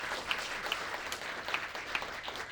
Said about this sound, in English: just give them another round of applause if we could